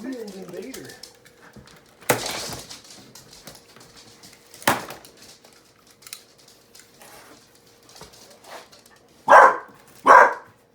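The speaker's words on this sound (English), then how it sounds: "he's barking at that two-wheel cart." A dog barks at a two-wheel cart, scattered sharp barks with a few fainter ones early, then two loud barks close together at the end over a quiet room.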